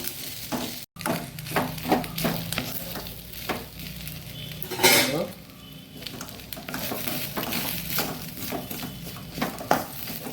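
Cooked rice being stirred and mixed in a pan for chitranna with betel leaf, sounding as a steady soft sizzle broken by repeated scraping and clinking strokes of a spoon against the pan, close and without any talking.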